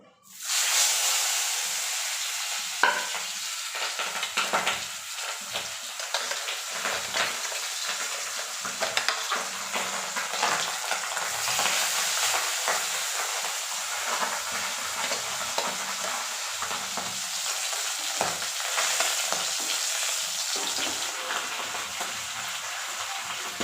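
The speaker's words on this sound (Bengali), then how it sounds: "এবার আমি মাছগুলোকে ভেজে নেবো" Fish frying in a pan, a continuous close sizzle and hiss of hot oil lasting the whole stretch, with occasional spatters and light utensil taps, no talking.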